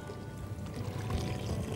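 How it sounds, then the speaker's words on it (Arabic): Water pours steadily into a bowl of flour, sugar, salt and baking powder for feteer dough, a continuous close splashing trickle with no talking. "هنبتدي نحط له المية"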